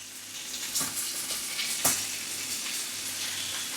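Bacon and spring onions frying in a pan over turned-down heat give a continuous, fairly loud sizzle with a brief sharper spatter near the middle, and no talking over it.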